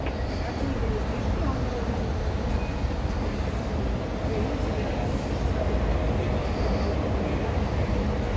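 An Amsterdam metro train on line M52 rumbles steadily throughout, a broad continuous roar of wheels and motors, with faint voices murmuring underneath.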